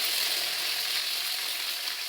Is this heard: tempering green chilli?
yes